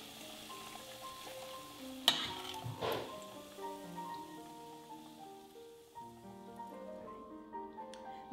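Sweet potato and beet frittatas fry in hot oil, a busy sizzle with crackles, a couple of sharp pops early on, then a gentler bubbling as it settles.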